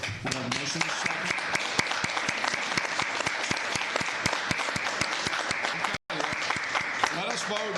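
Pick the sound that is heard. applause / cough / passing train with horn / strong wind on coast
applause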